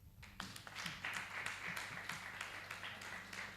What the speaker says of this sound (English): I think we need to clap for ourselves.